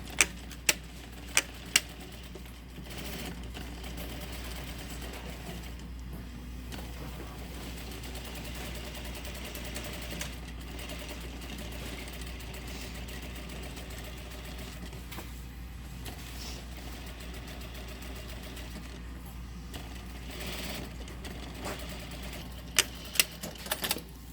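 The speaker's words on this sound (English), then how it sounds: "we can just do a nice, tight, close edge stitch all the way around" Sewing machine running a tight, close edge stitch around a tailored garment front, a steady faint rapid clatter that continues throughout, with a few sharp clicks at the start and end.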